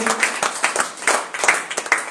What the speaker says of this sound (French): Est-ce qu'on peut recevoir le frère Gilbert? Alléluia, avec les acclamations, avec les ovations